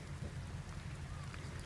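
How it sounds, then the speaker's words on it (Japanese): Steady rain falls during an outdoor walk, a faint continuous patter and hiss with a low rumble, no voices. "雨降ってんねんだ"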